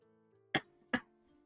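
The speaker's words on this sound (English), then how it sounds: "Sorry if I cough, I'm a bit sick right now" Two short, sharp coughs about half a second apart, close to the mic over a faint steady hum.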